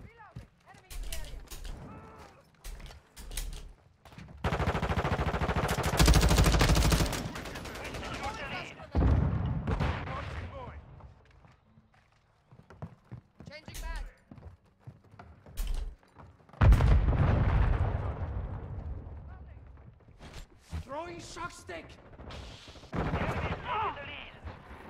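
Light machine gun fire in the Call of Duty MWII video game, loud sustained bursts of automatic shots broken by short pauses and scattered single cracks, with a voice talking between the bursts.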